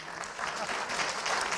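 A panel discussion audience at a sustainability summit breaks into applause, an even wash of many hands clapping together, loud and continuous throughout.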